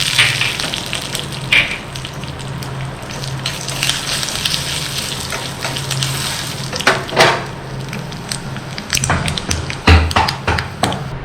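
Mustard seeds, urad dal and dried chillies sizzle in hot oil, a continuous close crackle with scattered sharp pops and taps of a spoon against the pan, louder bursts near the end.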